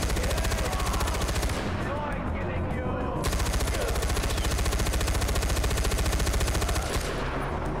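Rapid, continuous gunfire from a first-person shooter set in a Himalayan warzone, a mounted-style automatic weapon rattling loudly and steadily for most of the stretch with only a brief dip in the middle.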